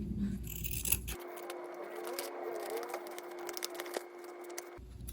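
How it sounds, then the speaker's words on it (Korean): Light draping scissors snip through fabric for a baby garment on a home sewing table, a run of soft crisp cuts close up in a quiet room, with no talking. "제가 드레이핑 할 때 쓰는 가위밖에 지금 집에 없어서 이걸로 일단 잘라주겠습니다."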